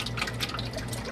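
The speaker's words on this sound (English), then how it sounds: "You're going to open that up and pour that right into your container." Tomato juice from a 64-ounce bottle pours steadily into a container, a continuous close liquid gurgle and trickle with no talking.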